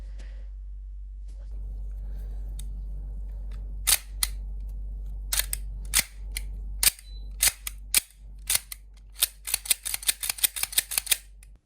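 Sharp CO2 airsoft pistol shots, a Russian Baikal Makarov replica: a few spaced single pops, then a fast, rapid string of shots near the end, loud and close with no one talking.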